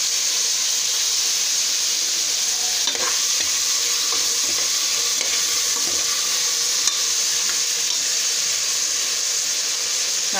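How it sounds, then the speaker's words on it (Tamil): Tomatoes sautéing in a pan with a little salt give a steady, close sizzle and hiss throughout, with a few faint scraping stirs and no voices. "தக்காளி சீக்கிரம் வதங்க நான் கொஞ்சம் உப்பு போட்டுக்கிறேன்."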